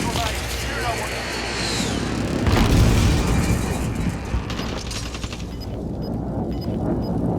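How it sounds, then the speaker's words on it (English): Precision airstrike blasts in Call of Duty: Warzone rumble and boom in a dense, loud barrage with gunfire-like crackle, peaking midway, while a voice talks over the chaos. "Enemy precision airstrike. Take cover."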